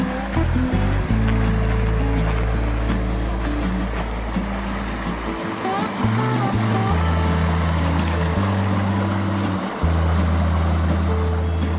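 Clear mountain water of Tuttle Creek tumbling over rocks at a campground, a steady continuous rushing wash close by, with deep low-frequency rumble and no talk.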